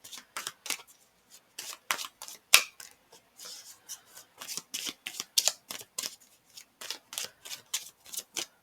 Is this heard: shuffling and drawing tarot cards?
yes